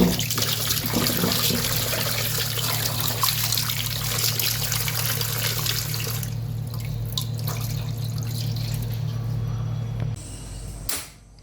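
Tap water runs steadily in a kitchen while seven or eight medium potatoes are washed, a continuous close trickle and splash with a low hum beneath, ending abruptly near the end.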